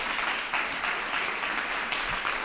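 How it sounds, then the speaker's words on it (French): Church audience at an Easter service giving children a standing ovation after their song and dance, steady dense applause filling the whole stretch at an even loudness. "on peut les applaudir encore plus fort, je pense. On peut même leur faire une standing ovation"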